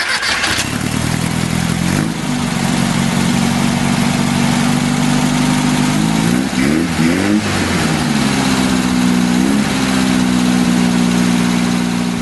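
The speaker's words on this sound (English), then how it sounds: "Now start your engine." A Volkswagen-style air-cooled engine fitted with an EMPI EPC 32/36 progressive carburetor, mixture screw backed out two turns, cranks over and catches, then idles roughly at low RPM with a steady loud drone and a few uneven surges.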